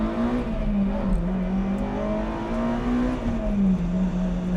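A Honda Civic Type R revs hard, its engine note climbing steadily and loud throughout, heard close from inside the car with no talking.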